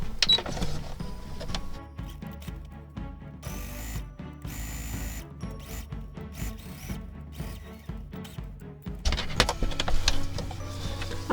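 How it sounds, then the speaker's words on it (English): A home sewing machine stitches fabric for a Simplicity 3514 pattern, running in a rapid mechanical whir with short bursts, pauses and restarts, then a busier second stretch near the end. "I'm just going to go ahead and stitch it up"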